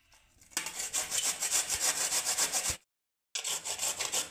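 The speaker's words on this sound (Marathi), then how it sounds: "अशा पद्धतीने मी कारलं किसून घेते।" Bitter gourd is rubbed against a grater in fast, rhythmic rasping strokes, close and clear, with a brief pause before the scraping resumes.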